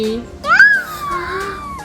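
A voice gives a single drawn-out, rising-then-falling meow, imitating a cat, after a brief adult word at the start.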